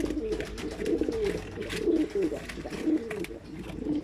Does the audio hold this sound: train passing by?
no